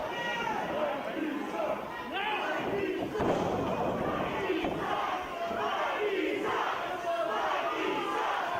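Wrestling crowd at a Lima show jeering, shouting and chanting loudly throughout, a dense roar of many voices with occasional thuds from the ring.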